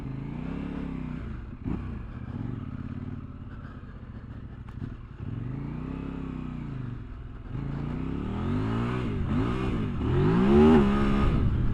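A Kove 800X Pro adventure motorcycle of about 95 horsepower is ridden in dirt, its engine rising and falling through repeated revs and gear changes, steady and fairly close, and it grows louder toward the end.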